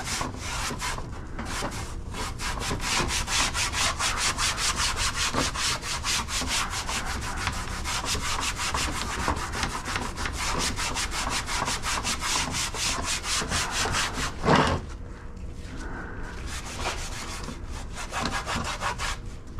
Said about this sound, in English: And I'm going to just come in and scuff this up, guys.